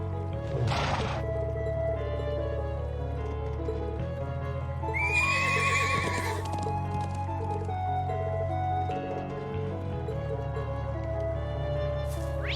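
A horse neighs and whinnies while hooves clip-clop steadily, with ambient sound from the video game Trails of Cold Steel II throughout and a splash of liquid midway.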